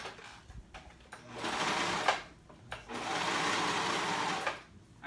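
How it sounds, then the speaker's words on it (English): A home sewing machine runs a stretch stitch on swimsuit fabric in two sustained whirring bursts separated by a short pause, close and steady, with no talking. "any stretch stitch will work on your sewing machine"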